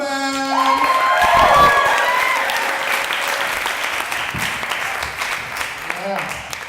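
A comedy showcase audience at a stand-up student show claps and cheers loudly as the next comedian takes the stage, with a sustained burst of applause, whoops and shouts that slowly thins out.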